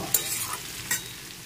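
Green chillies and spices are stirred into pumpkin curry frying in a pan for a vegetarian Bengali-style dish, with two brief scraping stirs over a soft, steady sizzle.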